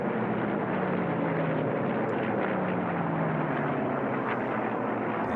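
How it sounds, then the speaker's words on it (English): A Russian Yak-3 fighter plane with red stars races in the lead at an unlimited air race, its engine a continuous loud droning roar that slowly shifts in pitch as it passes, with no voices. "here you see the Russian fighter, the Yak 3 leading the field here"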